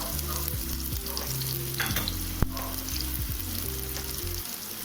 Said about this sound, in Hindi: तो चलिए प्याज को थोड़ा पिंच होने तक भून लेते हैं